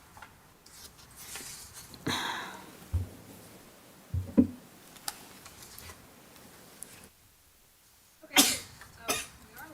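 A sneeze breaks the quiet of a code compliance hearing room, a sharp burst standing out among a few other short throat and body noises in an otherwise hushed space.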